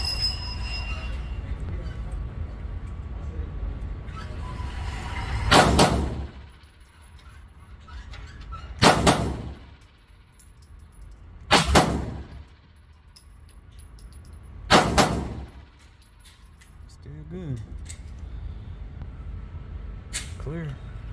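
Hi-Point C9 pistol fired in double taps, four sharp loud bursts of paired shots spaced a few seconds apart, with faint background noise between them.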